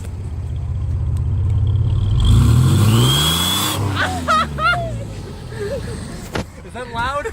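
A car engine revs up loudly, and a rising turbo whistle sings above the engine roar before the revs fall away. People then talk close by.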